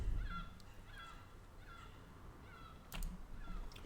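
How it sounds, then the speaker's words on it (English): Faint repeated seagull calls in a video game, four or five short nasal cries at a steady pace over a low rumbling background, with a brief clatter near the end. "You hear that seagull?"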